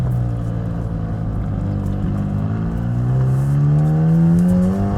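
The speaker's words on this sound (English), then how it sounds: "Those are the downshifts right there." A Chevrolet Corvette C8 Z06 exhaust sounds close and loud as it downshifts, its engine note rising sharply in quick blips over a steady rumbling drone.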